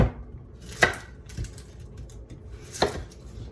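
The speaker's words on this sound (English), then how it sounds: "We're going to start by chopping up this onion." A few sharp knife chops through an onion on a cutting board, spaced irregularly with quiet gaps, close and fairly soft.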